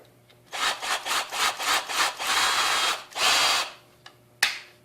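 A Hart cordless drill driver running in reverse whirs in rapid, pulsing bursts with a grinding, ratchety rasp, then runs steadily before two short final buzzes.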